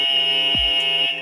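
A quiz contestant's answer buzzer at a French road-safety quiz on bikes and scooters sounds as one loud, steady electronic tone lasting over a second, with a brief low thump partway through.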